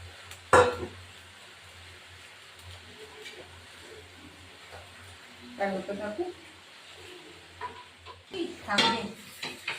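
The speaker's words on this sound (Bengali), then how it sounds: "এবার এই যে মাছের মাথাগুলো দিয়ে দেবো" Snakehead fish heads dropped into a cooking pot with gourd and greens, a sharp clatter followed by soft rustling and stirring knocks, close, with someone talking over it.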